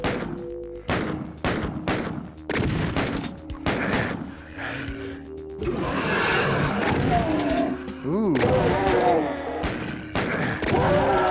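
Gunshots and weapon blasts from the 1997 first-person shooter Doom, rapid repeated bursts in a cluttered game mix with engine-like roars and monster noises, while a voice talks over the action.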